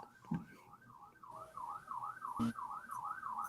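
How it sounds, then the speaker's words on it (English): An emergency siren wails outside, a repeating up-and-down tone at moderate distance that slowly swells louder, with a couple of brief knocks nearby and no speech. "Oh, the siren. Yeah, it's getting louder."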